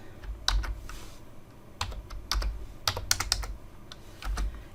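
Clear, close typing on a computer keyboard, irregular clusters of crisp key clicks with heavier thumps of the keys bottoming out, entering text into a PowerPoint text box, with no speech.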